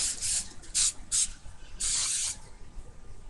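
An aerosol can of White Rain Extra Hold Unscented hairspray sprays in several short hissing bursts, then one longer spray, close and loud with brief pauses between.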